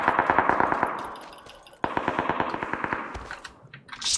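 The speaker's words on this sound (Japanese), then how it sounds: "今の銃撃戦だ。" Bursts of rapid automatic gunfire in quick rattling rhythm, loud and close, with a sharp break midway before another sustained volley.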